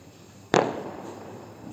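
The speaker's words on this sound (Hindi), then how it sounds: "फिर हमने जलाए पटाखे।" A single sharp firecracker bang at a Diwali celebration, loud and close, followed by a crackling, fading tail of noise.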